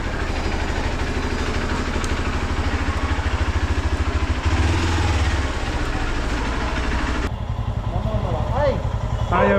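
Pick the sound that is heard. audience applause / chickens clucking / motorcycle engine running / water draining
motorcycle engine running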